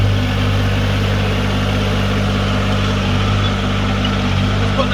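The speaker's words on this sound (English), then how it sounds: "I'll turn the engine off so you can hear me talk as well." A Branson 1905 tractor engine idles steadily with a deep, even rumble, loud and close, running alone without pause.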